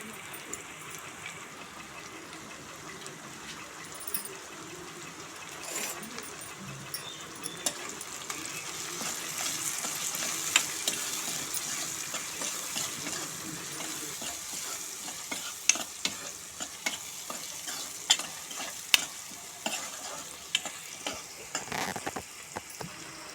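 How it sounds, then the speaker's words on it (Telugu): Onions with salt frying in a pan, a steady low sizzle with scattered scraping clicks of stirring, close and unaccompanied by talk. "కూడా వేసుకుని ఉల్లిపాయలు బాగా మగ్గనివ్వాలి."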